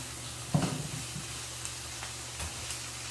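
Food sizzles in a frying pan while being stirred, giving a continuous soft hiss broken by a few close scraping knocks near the start and later.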